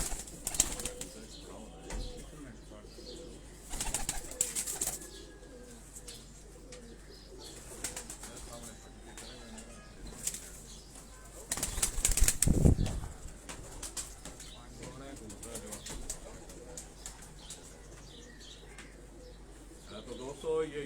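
Pigeons at a house coop in Lahore giving soft cooing calls with a few bursts of wing flapping, one louder flurry midway, amid quiet background and occasional talk.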